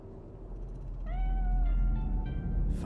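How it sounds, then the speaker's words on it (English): A cat meows in the video game Cyberpunk 2077, one drawn-out mid-pitched meow followed by a shorter one, clear and fairly close over a low rumbling game ambience. "Do you see it? That cat?"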